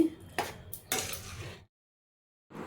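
A spoon scrapes and clinks in a pot of chana dal and ridge gourd curry with dry coconut powder, giving a few short metallic strokes, a pause of silence, then another scrape.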